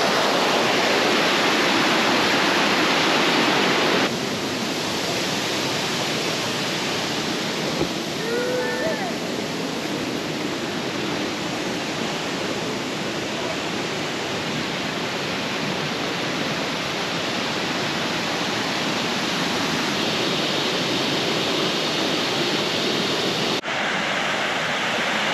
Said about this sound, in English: that's the very top of the falls where they go over the top there